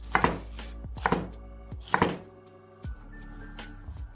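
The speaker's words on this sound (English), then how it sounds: "We chop the onion into cubes, slightly larger than medium sized." A knife chops onion into fairly large cubes for a chicken-breast side dish, three quick double knocks on a board followed by softer taps, close and with no voices.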